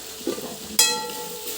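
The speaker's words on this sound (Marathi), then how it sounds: "आणि सगळं व्यवस्थित असं हलवून घ्यायचं" Mutton masala gravy is stirred in a pan, a brief scrape followed by a single ringing metallic clink of the spoon against the pan over a faint sizzle.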